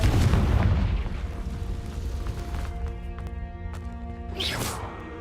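Confringo blasting spell in a Harry Potter video game: a loud boom at the start that decays into a low rumble, followed by ringing tonal chimes and a brief swoosh near the end.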